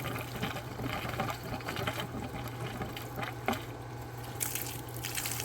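Discolored well water pours wide open from household plumbing in a steady, broad rushing flow, with a low pump-like hum beneath it and a few brief knocks.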